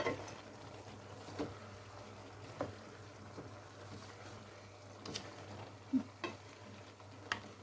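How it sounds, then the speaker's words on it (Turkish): A leek dish is stirred in a pan with scattered light scrapes and taps at irregular intervals over a faint low hum, quiet and close, with no one speaking. "Bir karıştıralım arkadaşlar şöyle."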